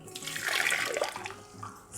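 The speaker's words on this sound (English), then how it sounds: "add 1 1/4 cup of boiling hot water" Boiling hot water pours into a mixing bowl in a brief splashing gush that swells and then tapers off, close and fairly quiet.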